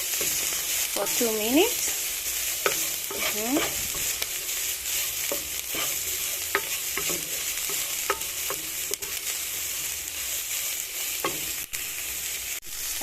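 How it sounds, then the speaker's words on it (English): Onions being stirred and fried with omena (dagaa), a bright crackling sizzle with repeated spoon scrapes and taps against the pan, a brief voice speaking over it. "We add our onions and mix very well"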